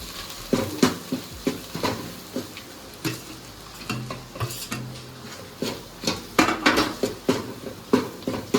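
Red chili powder, ground onion-garlic paste and garam masala are stirred together for a spicy Konkani-style crab curry, giving a steady run of close spoon scrapes and clinks against a pan with faint sizzling underneath.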